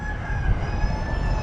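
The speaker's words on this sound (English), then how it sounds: "Apparently the rooster thinks it's time to wake up." A rooster crows, somewhat distant, over a steady low rumble of background noise.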